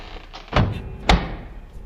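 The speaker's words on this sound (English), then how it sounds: "just as I found my voice, the door closed" A door in an apartment closes with two heavy thuds about half a second apart, close and solid against a quiet room, with no voices.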